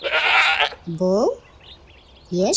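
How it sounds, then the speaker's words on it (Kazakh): After a brief noisy burst, a goat bleats twice nearby, each cry a short, wavering, nasal call with a quiet gap between them. "ешкі. Ешкі. Ешкі."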